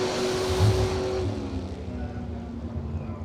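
A drag racing car launches off the start line at a fall fling drag event, a loud engine roar that surges at first and then fades as the car pulls away down the track.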